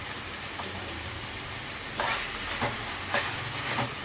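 Onions and eggs fry in a pan for egg masala, a soft steady sizzle running throughout with a few louder hissing bursts in the second half as the contents are stirred, no speech.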